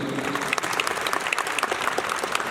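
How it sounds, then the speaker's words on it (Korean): Dense applause from an audience at a sports event for people with disabilities in Hwaseong, steady and fairly close throughout, with no talking over it. "큰 박수를 마치며 박수를 부탁드리겠습니다"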